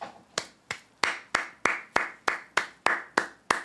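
Clapping at a live show, about eleven sharp claps in a fairly steady rhythm, each clear and separate, as if from one or a few people close by, with no talk over them.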